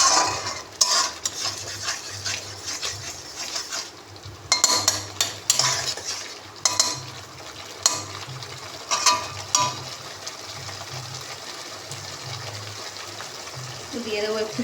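Ginger garlic paste fries in a pan for a prawn curry made with onion paste. A spoon scrapes and clinks against the pan in irregular bursts over a soft sizzle, close by.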